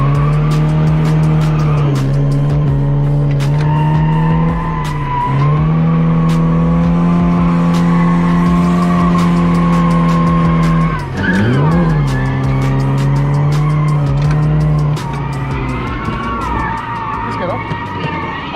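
A 120-horsepower Peugeot car drifts with its tires squealing and skidding in a loud, sustained, wavering screech over engine noise that dips once midway and eases near the end.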